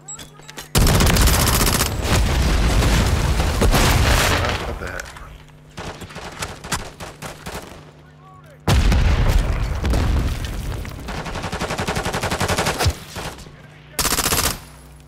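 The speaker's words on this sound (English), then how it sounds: "Frag out!" Call of Duty video game combat roars with heavy, continuous automatic gunfire and booming blasts, including a frag grenade explosion, loud and dense throughout, with brief lulls and in-game voice callouts.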